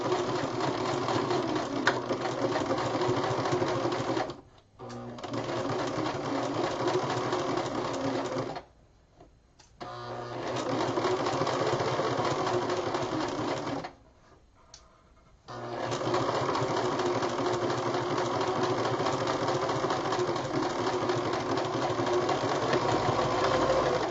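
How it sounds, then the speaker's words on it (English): A sewing machine stitches a French seam with a 3/8 inch seam allowance, running in long steady bursts with a few short pauses between them, close and clear with no voices. "I line it up on my machine, and then I'm going to go ahead and sew down."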